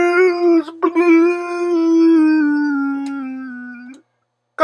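Dog howling, one long sustained tonal howl that drops slightly in pitch over about four seconds before cutting off, loud and close.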